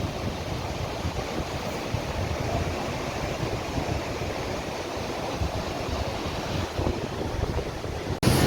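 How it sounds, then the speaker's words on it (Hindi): Meltwater from snowy mountains rushes along a stream near Rambara on the Kedarnath trek, a steady, continuous wash of flowing water mixed with wind noise, with no voices. "ये पड़ी है बर्फ़ पहाड़ों में, और ये आ रहा है पानी"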